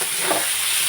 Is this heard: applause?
no